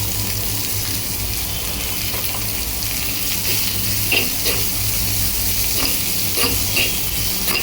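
Onion and green chillies sauté in a pan with a steady loud sizzle, broken by a few sharp scraping stirs from a spoon near the end.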